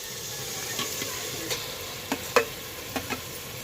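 Masala paste frying in a pan over a wood fire in a village kitchen for crab stew, with a soft steady sizzle and a few sharp scrapes of stirring.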